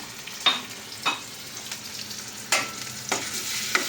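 Crushed shallots frying in a hot pan, a soft sizzle broken by several bursts of louder spattering and stirring scrapes, close by with no speech.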